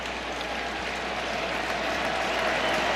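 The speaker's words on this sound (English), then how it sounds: "Dolphins fans here cheering on Tua in the offense." Miami Dolphins fans at an NFL stadium cheer and clap for the offense in a dense, steady roar of crowd noise that holds at an even level from start to finish, with no clear voice standing out.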